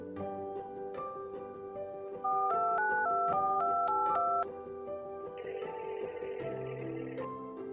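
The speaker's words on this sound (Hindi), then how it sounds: "रुक, फोन लगाती है उसे।" A quick run of about eight telephone keypad beeps, evenly spaced, plays over soft background music.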